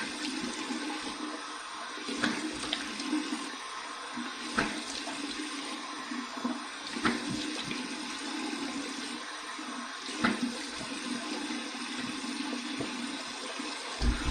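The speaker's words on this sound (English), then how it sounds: "All right, cold water rinse." Cold tap water runs steadily into a sink for a rinse while shaving, a constant close rushing splash with small irregular knocks and gurgles, and no talking.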